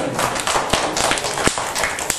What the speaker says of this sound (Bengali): ক্ল্যাপ করো, নিজের জন্য ক্ল্যাপ করো